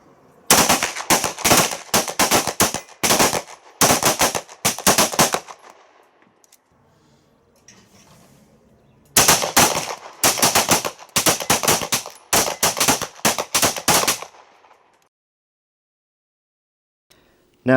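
A Husqvarna m/07 pistol is fired in two rapid strings of loud, sharp shots, each burst of roughly ten reports, separated by a few seconds of quiet and followed by silence.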